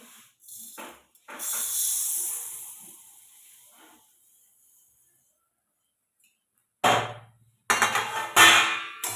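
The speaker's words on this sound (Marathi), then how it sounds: "आता कढईमध्ये मी तीळ टाकून घेते" Crackling hiss of sesame seeds roasting in a hot wok, loud for a few seconds then fading to quiet, followed by short, sharp bursts of sizzling.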